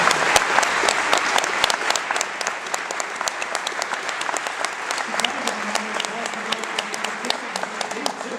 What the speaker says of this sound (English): Let's give Steve a round of applause again.